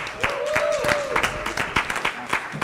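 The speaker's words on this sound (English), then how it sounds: "Let's give this awesome JES fourth grader Camille Bond a round of applause" At a school board meeting, a modest crowd gives scattered applause for a fourth grader, distinct claps at moderate loudness with a voice talking over them.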